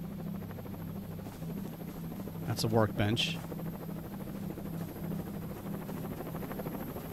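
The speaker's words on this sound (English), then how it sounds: "Oh, the helicopter's leaving." A helicopter in the video game XERA Survival lifts off, its buzzing rotor thrum running steadily through the scene with a brief whooshing sweep midway, under a man's casual speech.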